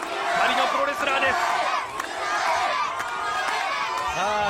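An outdoor pro wrestling crowd roars and yells through heavy rain, a dense, continuous mass of voices with a commentator talking over the noise.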